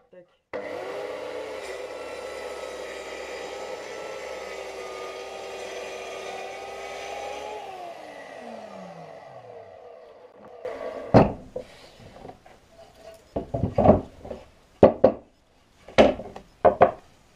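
A power saw set to a fixed cutting depth runs through a wooden board along a straight guide, giving a steady whine for about seven seconds before spinning down. Sharp clattering knocks and handling noises follow.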